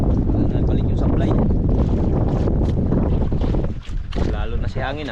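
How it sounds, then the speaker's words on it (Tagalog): Strong wind blowing at sea near a small fishing boat, a steady loud broadband rush buffeting the microphone throughout, with a brief lull near the end and some voices talking underneath. "Lalo na si hangin ah."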